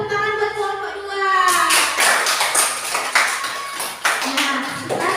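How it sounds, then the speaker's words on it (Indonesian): Classroom applause for a student group after a school drama, a dense crackle of many hands clapping that swells and continues steadily, with a voice briefly heard at the start. "Beri tepuk tangan buat kelompok dua"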